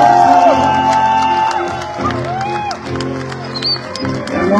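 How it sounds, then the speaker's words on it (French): A concert crowd at a live show cheers and applauds, a loud sustained roar of voices and clapping with shouts rising over it, while a voice talks over a sound system. "Applaudissements pour Didier Rodis."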